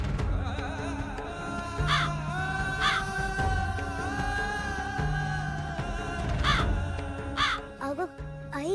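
A crow caws repeatedly outdoors, several distinct harsh calls spaced a second or so apart, rising clearly over a steady background hum.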